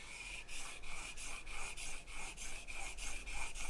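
Blade being sharpened on a Shapton Glass 500 grit stone, a steady rhythmic rasp of back-and-forth strokes, about two per second, close and fairly quiet with no talking.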